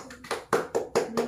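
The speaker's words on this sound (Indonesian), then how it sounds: "Tepuk tangan dulu." A few students clap in a classroom with sharp, close claps that come in quick uneven bursts, about six in all, and no one speaks.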